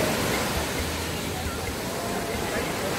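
Ocean surf at Bondi Beach in Sydney roars continuously and steadily, a dense broadband wash of breaking waves close by with no distinct pauses.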